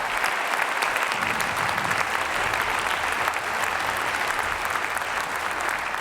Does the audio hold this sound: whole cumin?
no